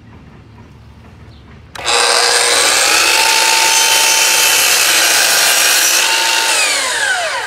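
Hand saw cutting a miter through wood for a firewood bin louver: steady, continuous rasping strokes start abruptly and run loud and close for several seconds without pause.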